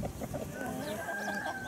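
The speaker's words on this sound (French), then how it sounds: "Le gros coq Splash, c'est Caradoc." Chickens cluck among a flock of Brahma fowl with a rooster's call, dense overlapping close bird sounds over steady background noise.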